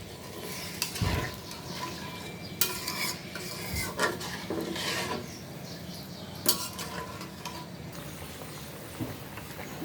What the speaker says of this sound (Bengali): দেখো মাছের ঝোলটা খুব সুন্দর করে ফুটে উঠছে